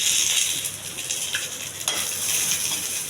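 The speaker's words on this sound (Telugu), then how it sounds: "ఇవన్నీ కొద్ది దోరగా వేగించాలి." Onions fry in hot oil in a pan along with curry leaves, cumin and mustard seeds, giving a steady close sizzle with occasional stirring scrapes and a brief clink of utensils.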